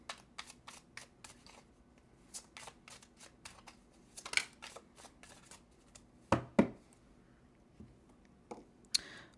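Tarot cards are shuffled close up in quick papery riffles and taps, a steady run of short crisp flicks with a few louder slaps near the end as one card is drawn.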